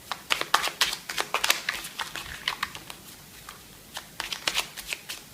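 Oracle cards being shuffled and drawn by hand, a close, brisk run of papery riffles and flicks in uneven bursts, with a brief pause before a final flurry.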